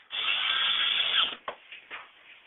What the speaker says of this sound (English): if I'm in a hurry, I'm going to use a drill